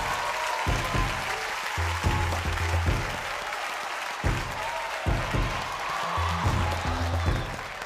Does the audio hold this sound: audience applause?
yes